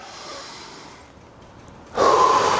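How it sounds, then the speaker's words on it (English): Sharp, audible inhale through the nose while pushing up on a Total Gym, one short breath close to the mic after a quieter exhale. "How about as we push up, we inhale"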